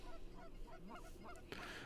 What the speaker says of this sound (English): So there's some geese landing on the outside edge again